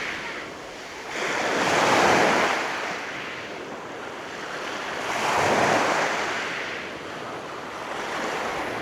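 Ocean waves surge and wash ashore on a black gravel beach in two slow, rolling swells, with a steady roar of surf and wind between them.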